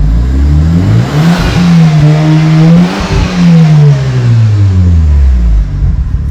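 Sports car with an HKS exhaust revving hard in repeated climbs up to its 8,000 rpm limiter, a loud close engine note rising and bouncing off the cutoff several times.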